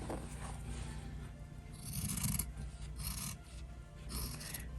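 Scissors trimming sewn fabric at close range, producing quiet rasping snips in short bursts roughly once a second.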